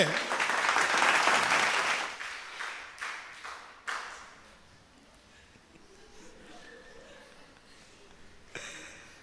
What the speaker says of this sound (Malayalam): നല്ല കയ്യടി കൊടുത്തേ.